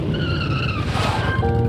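A motorbike skids to a stop in the Persona 3 Reload video game, a steady tire screech with a tonal whine that sweeps and fades over under two seconds, loud and close with no talk.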